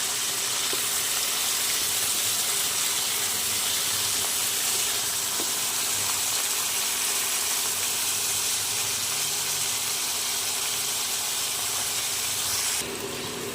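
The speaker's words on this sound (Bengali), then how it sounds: "কেটে রাখা গাজর দিতে হবে একটু সামান্য নুন এবং ভালো করে ভেজে নিতে হবে" Chopped carrots with a little salt fry in a pan, giving a steady, loud sizzle and hiss that runs unbroken for the whole stretch, close up, with no talking.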